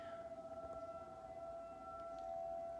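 Monthly tornado siren test, a steady sustained siren tone held at an even pitch, faint and distant with no talking.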